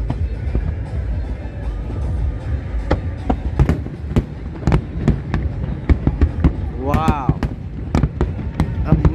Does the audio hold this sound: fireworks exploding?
yes